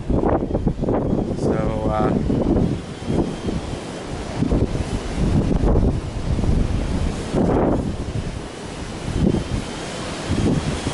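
Strong wind buffets the microphone outdoors during a quadcopter flight in gusty conditions, a loud, rough roar that surges and eases in waves, with someone speaking briefly.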